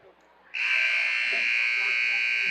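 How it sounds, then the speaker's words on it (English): A loud, steady electronic buzzer cuts in abruptly and holds its harsh tone without a break, over faint background murmur, at a high school basketball game. "And there's the second buzzer."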